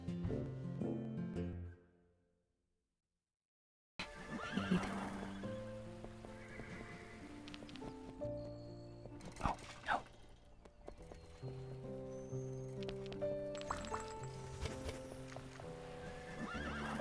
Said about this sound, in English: Is that a new horse?